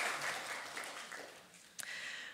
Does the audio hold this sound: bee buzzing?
no